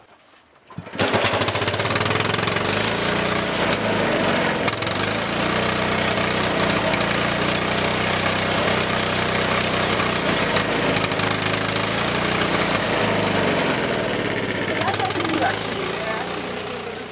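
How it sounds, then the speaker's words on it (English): A loud biogas engine, started on petrol, chugs steadily and continuously after a brief quiet start, a rough, knocking mechanical drone with people talking faintly over it, in Kenya. "so you use some petrol to start the engine"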